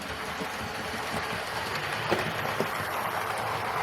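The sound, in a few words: Dapol Hinton Manor model locomotive running on track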